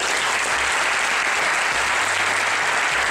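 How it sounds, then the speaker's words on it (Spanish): A studio audience gives a strong round of applause to Dr. Arturo Jiménez Bacardí as he departs, steady dense clapping that fills the whole stretch at close range with no voices over it. "el doctor Arturo Jiménez Bacardí fue despedido con un fuerte aplauso por parte del público"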